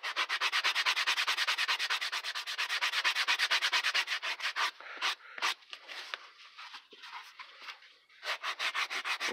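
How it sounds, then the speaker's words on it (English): Sandpaper rubs back and forth on a boffer sword in fast, steady rasping strokes, close and fairly quiet, with a short uneven pause midway before the rhythmic sanding resumes. "Okay, I'm going to sand this up, and I'll be back in one minute."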